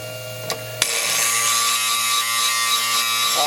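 An EMG 12 end mill grinder with a carbide-rated wheel sharpens the flutes of a high speed steel end mill, giving a steady, loud grinding whine after a couple of sharp clicks, continuous and alone.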